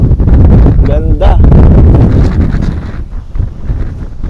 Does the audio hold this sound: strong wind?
yes